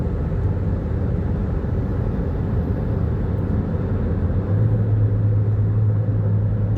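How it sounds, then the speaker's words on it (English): Car cruising down a highway, heard from inside as a loud, steady low road and engine rumble that holds constant throughout, with a faint tonal hum joining near the end. "I'm driving down the highway"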